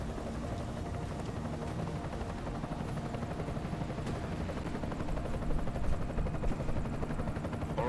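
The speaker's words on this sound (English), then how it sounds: "Enemy helo sighted." Enemy helicopter in Deus Ex: Mankind Divided, a steady, fairly faint rotor drone that swells slightly louder toward the end, with no one talking.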